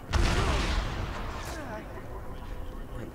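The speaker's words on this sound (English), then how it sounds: "Good sniper shot." A single sniper rifle shot in Dead Rising 3 cracks loudly right at the start, then fades into a long, rumbling echo that tails off over a few seconds.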